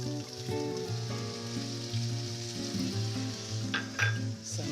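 Chopped onions sizzle and fry in a pan as the base of a seafood brodetto sauce, a steady close crackle running throughout with some stirring, and no talking.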